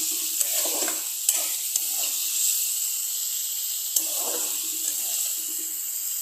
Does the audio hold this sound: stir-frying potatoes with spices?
yes